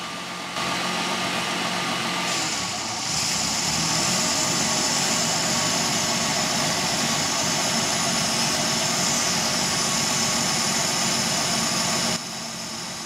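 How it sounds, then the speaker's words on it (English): A car engine idles roughly for several seconds with a low, uneven rumble as vacuum is manually applied to the EGR valve, the RPMs dropping in a brief pitch shift partway through; no voices. "the RPMs dropped, and the engine is idling rough"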